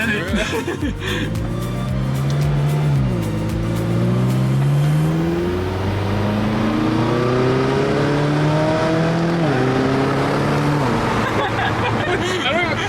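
A supercar pulling away on light throttle, its engine note rising smoothly through several gear changes with steady loud cabin drone, while people talk inside the car.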